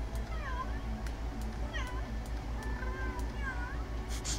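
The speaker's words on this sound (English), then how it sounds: "meow. That's a good one." A cat in The Sims 3 meows several times, clear rising and falling calls spaced over a few seconds above a steady low background hum.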